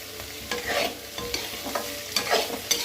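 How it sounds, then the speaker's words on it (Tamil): Tomatoes being sautéed in a pan for a brinjal fry give a soft, continuous sizzle, broken by repeated scraping stirs in an uneven rhythm, close by and with no talking. "தக்காளி நல்லா வதங்கணும்."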